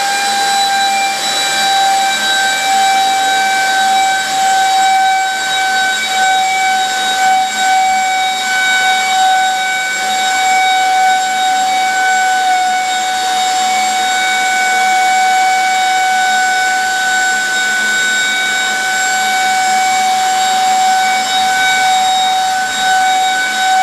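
An FMS F-15C Eagle 64mm electric ducted fan RC jet runs with a steady, loud, high-pitched whine and strong tonal harmonics, holding nearly constant close by for over twenty seconds with no talk.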